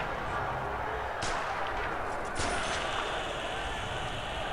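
Two sharp gunshots crack about a second apart over a constant, dense roar of game noise in Prison Architect.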